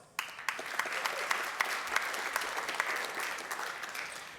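Audience applause at a downtown San Jose association's annual meeting, a steady full crowd clapping that starts suddenly and holds for about four seconds with occasional louder individual claps standing out.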